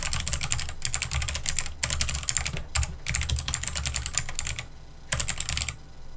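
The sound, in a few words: typing keywords on a computer keyboard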